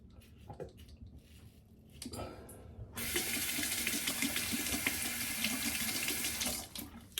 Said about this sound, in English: And rinsing early and often